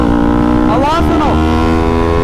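A 300cc motorcycle engine drones steadily, then briefly revs up and falls back, its harmonic whine rising and dropping over continuous road noise.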